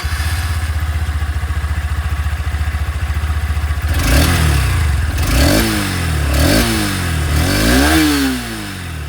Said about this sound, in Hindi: चलिए दोनों ही बाइक की जो एग्जॉस्ट साउंड है वो मैं आप लोगों को सुना देता हूँ।